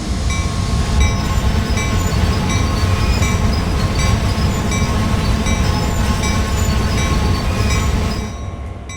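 An EMD GP38-2 diesel locomotive in Train Sim World 2 brakes toward a stop, with a steady loud rumble and wheel squeal over clattering rails that fades at the end.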